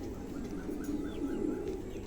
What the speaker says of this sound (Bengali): দুটো কবুতরই মাশাআল্লাহ চমৎকার